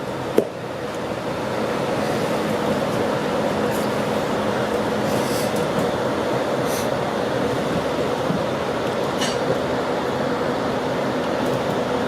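Interior of a Great Western Railway passenger train running toward Slough: a steady, continuous rumble and wheel roar fills the cabin, with a brief knock near the start and a few faint rattles, no voices.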